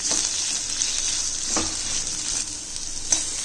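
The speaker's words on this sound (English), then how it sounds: "we are going to cook this on a high flame for around 1 minute, just till the onions are slightly translucent" Chopped onion cooks in a pan over a high flame, a continuous bright sizzle with a few soft stirring scrapes, close and steady with no voices.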